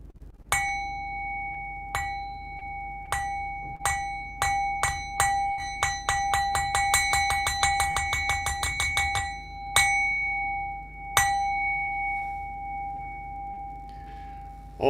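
A small Buddhist bell struck during a Zen Sunday morning practice rings with clear, sustained metallic tones, first in slow spaced strikes, then a quickening run of rapid hits that slows again to a few final rings, close and alone.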